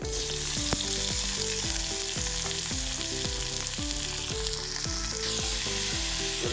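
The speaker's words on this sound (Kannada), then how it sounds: "ಆಯಿಲ್ ಹಾಕ್ಕೊತೀನಿ. ಅದಾದ ನಂತರ ಹಚ್ಚಿಟ್ಟಿರುವಂಥ ಈರುಳ್ಳಿ" Chopped onions fry in about two spoons of hot oil with a loud, continuous sizzle. A spatula stirs them in a steady, repeated rhythm of scraping strokes, close up and with no talking.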